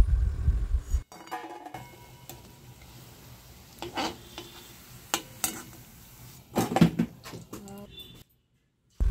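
Freshly fried green plantain fritters are lifted from hot oil into a bowl, with scattered utensil clinks and scrapes and a faint sizzle in a quiet kitchen, starting with a short louder burst.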